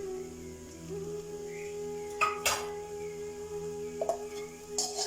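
A utensil scrapes and clinks in a pan while eggs are scrambled with cauliflower, drumstick leaves and grated coconut, with a few sharper metallic knocks over a steady low kitchen hum.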